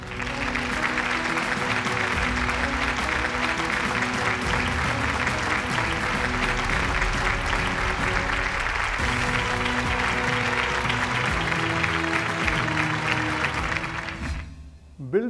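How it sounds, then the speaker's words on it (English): Sustained applause from an audience at a corporate awards event, loud and steady for about fourteen seconds over music, then fading out. "Let's have a huge round of applause as well."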